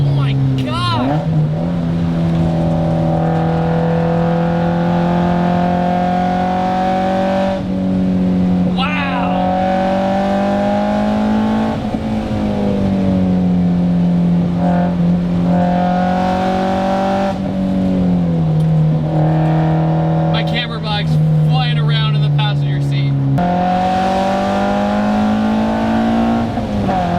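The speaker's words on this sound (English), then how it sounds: "The MR2 Spyder." A Toyota MR2 Spyder engine hums steadily at sustained revs while driving, its pitch rising and dipping through gear changes over nearly half a minute, loud and close, with a voice talking over it at times.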